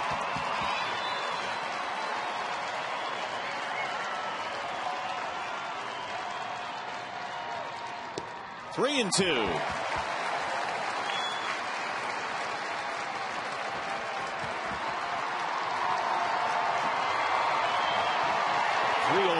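A baseball stadium crowd at Detroit cheering and clapping for Cabrera late in a Cleveland at Detroit game, steady broad applause throughout with a brief sharp burst midway and a swell near the end, under a commentator's voice.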